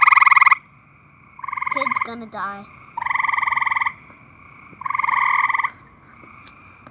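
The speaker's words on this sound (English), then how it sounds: "Our Singing Frogs by the poolside." Backyard frogs by a poolside croak in loud, buzzing bursts about a second long, with short pauses between calls. A voice speaks briefly in the middle.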